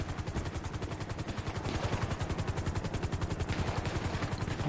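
In a video game, a helicopter's rapid rotor chop pulses steadily and loudly, mixed with rattling bursts of automatic gunfire throughout.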